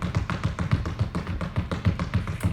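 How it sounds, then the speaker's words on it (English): Rapid feet tapping on the floor during a seated senior fitness exercise, a fast, even patter of soft thumps, about eight per second, steady and close with no talking. "we're going to move our feet really fast like a football run"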